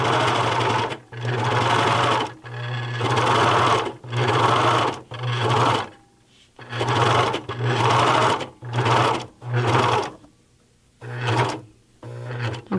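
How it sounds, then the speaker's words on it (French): An overlocker stitches a fabric corner in repeated short bursts of fast whirring, about ten runs of a second or so separated by brief pauses and handling clicks. "Je vais vous montrer comment faire un coin à la surjeteuse."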